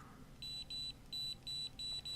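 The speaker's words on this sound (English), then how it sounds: "Hear that beeping?" A remote-controlled light gives a series of short, high electronic beeps repeating in a steady rhythm, fairly quiet against a low background hum, with no talking.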